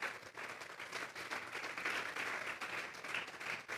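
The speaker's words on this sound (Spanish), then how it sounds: "Denle un fuerte aplauso pues al Señor." A church congregation breaks into sustained applause after a sermon on Psalm 22, a dense, fairly distant wash of many hands clapping steadily with no voices over it.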